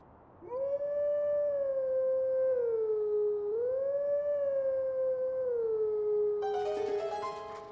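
Wolf howl from The Legend of Zelda: Twilight Princess HD, one long sustained tonal howl that dips and rises in pitch, loud and close, ending as a burst of game music chimes in.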